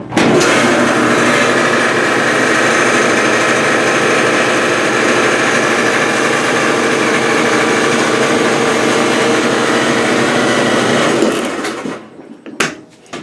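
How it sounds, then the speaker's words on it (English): Failing drain pump in a Maytag Neptune washer, heard as a loud, steady mechanical whine and drone that holds for about eleven seconds, then cuts out into a few faint knocks. "when that pump heats up, after it's been going for a little while, usually during the spin cycles is where you're going to hear this the worst"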